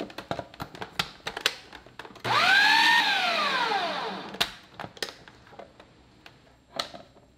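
Blender pulsing thick cauliflower mash with heavy cream and butter: one loud whirring burst of about two seconds that winds down, surrounded by light taps and clicks of handling.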